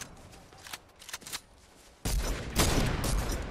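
Gunfire in Fortnite: a few quiet scattered shots, then a loud, dense burst of rapid fire continuing to the end.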